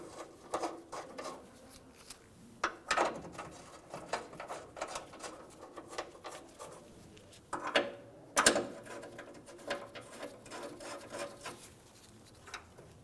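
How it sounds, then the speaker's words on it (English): A ratchet tightens the rear bumper bolts on a 2011-2018 Ram 1500, giving soft irregular clicks and mechanical rubbing with a few sharper knocks, fairly quiet and with no speech. "Now we'll tighten these down."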